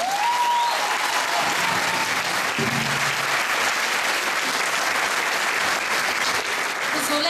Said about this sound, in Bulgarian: Аплодисменти за най-малкият талант на акордеон Йосип Орешков.